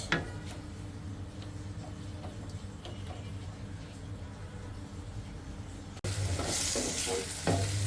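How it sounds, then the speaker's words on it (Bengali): Whole spices (cinnamon, cardamom, cloves, bay leaf, black pepper) and onion frying in a pan for Peshawari chicken, a steady close sizzle with stirring clicks throughout, growing louder and harsher near the end. "পেঁয়াজটাকে হালকা ভেজে নিচ্ছি"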